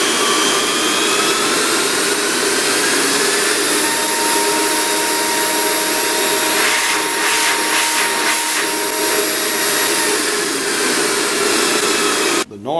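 Vacuum-type blower motor for a mini calliope running at full speed, a loud, steady high-pitched whining roar of rushing air that fills the whole stretch without pause.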